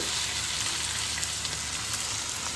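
Ridge gourd, onion and poppy seed fry in oil over a high gas flame with a steady, dense sizzle and fine crackling throughout. The sound is close and continuous, with no pause and no speech.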